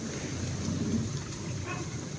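Rain beats on a car while it is being driven, a steady, dense patter with low road rumble running the whole time and no voices.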